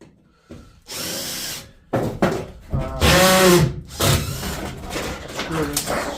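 Close, loud bursts of a power drill whine in several short runs of varying speed as it works a stuck screw out of an air conditioner being scrapped, with brief pauses between spins.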